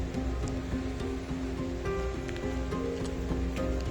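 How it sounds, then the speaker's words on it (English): A river flowing quietly as rain begins to fall, a steady broad wash of water with scattered light patter and drips throughout, no voices. "The river is a bit quieter here, but it's starting to rain"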